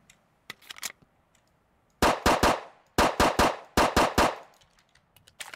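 Colt 1902 pistol firing in a video game: three quick bursts of three or four loud, sharp shots each, separated by short pauses, with faint handling clicks before and after.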